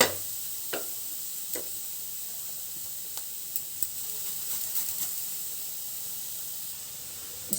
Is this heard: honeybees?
no